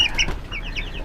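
Young black ayam jali chickens, about a month old, clucking and chirping in short high calls close by, with steady farmyard background noise.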